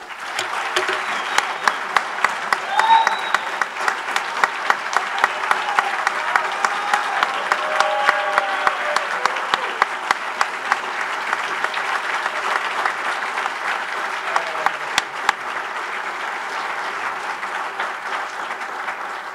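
A large audience applauds Hall of Fame inductees at the 2017 Miami Athletics induction ceremony, loud sustained clapping with a few sharp distinct claps standing out, continuing steadily for the whole stretch.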